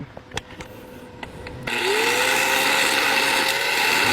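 An angle grinder bites into a metal stop, a few faint taps giving way to a loud, steady whine that holds at full strength and rises slightly in pitch as the wheel loads up.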